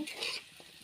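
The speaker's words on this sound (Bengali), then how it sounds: "লাল করে ভেজে নেব" Potatoes fry in oil for aloo bhaja as they are stirred and turned, giving a brief close scrape over a soft, steady sizzle.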